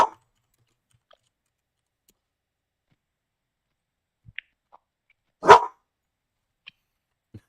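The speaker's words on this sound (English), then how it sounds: "Dog is not happy." An upset dog shut in a kennel indoors on New Year's gives one sharp bark amid near silence, with a few faint clicks and taps scattered around it.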